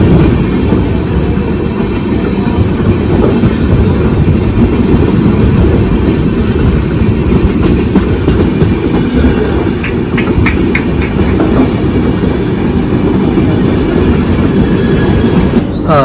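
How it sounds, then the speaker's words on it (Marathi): A train on the Konkan Railway rumbles past at close range, a steady loud roar of wheels and carriages with faint clickety-clack and brief metallic squeals, continuous for the whole stretch with no talking. "आत्ताच तुम्ही बघितलं असेल आपल्याला ट्रेन क्रॉस झाली"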